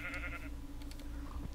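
Video game cows give soft, low moos that spread across both stereo channels, faint and brief, with no talking over them.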